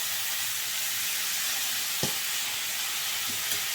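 Tomato, coconut and tamarind sauté in a hot pan for chutney, giving a steady, even sizzle and hiss throughout with a couple of faint stirring clicks and no voices.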